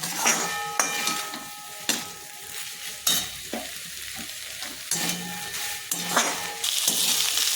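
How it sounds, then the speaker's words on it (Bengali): Chopped ivy gourd (kundri) sizzles steadily while frying in a pan and is stirred, with sharp scraping clinks of the spatula against the metal breaking through the constant close-up crackle of the oil. "এটা ভাজা হয়ে গেছে কুঁদরিটা"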